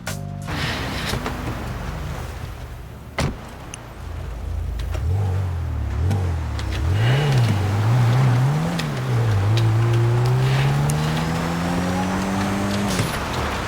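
A car engine in the GTA 5 roleplay game revs and drones loudly through its exhaust, rising and falling repeatedly before climbing in one long sustained acceleration, with a sharp bang early on.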